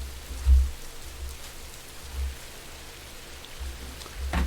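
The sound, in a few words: rain falling in the video game Rising World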